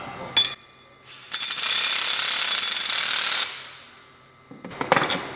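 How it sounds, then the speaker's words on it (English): A 1/2-inch wrench and socket tightening a bolt while installing a Copperhead concave on a CASE combine, with metallic clicks, a sustained loud grinding buzz for about two seconds, then more rattling clicks near the end. "Now I'm going to grab my 1/2-inch wrench and my 1/2-inch socket and tighten that up."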